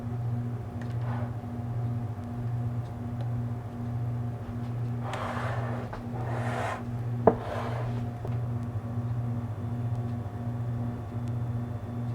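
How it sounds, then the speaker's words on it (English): Bread lame drawn diagonally across sourdough sandwich loaves: three short soft rasping slashes in quick succession, faint against a steady low hum, followed by a single small tap. "So I'm just taking it at a diagonal and doing 3 slashes."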